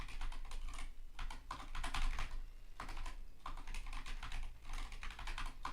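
Steady typing on a computer keyboard during a strategy game session, with close, rapid clicking clacking in bursts and short pauses between them.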